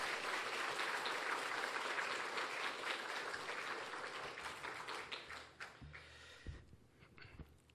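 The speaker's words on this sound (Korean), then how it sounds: "우리 박수로 우리 목사님을 모시도록 하겠습니다" A congregation claps to welcome the pastor to the pulpit at a Korean Sunday church service: a dense, steady round of applause that thins and fades over the last few seconds into scattered claps and room noise.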